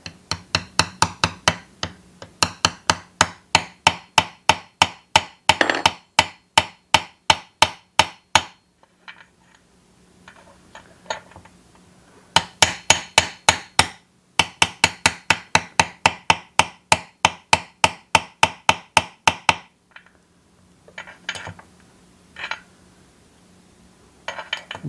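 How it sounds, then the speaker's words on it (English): A hammer taps a seal bushing into place on a Husqvarna 365 chainsaw. Sharp, evenly spaced metallic blows come in several long bursts, separated by brief pauses and quieter handling sounds. "I'm slowly going to tap that in place and keep checking to make sure that seal, the bushing is not moving up as we do that."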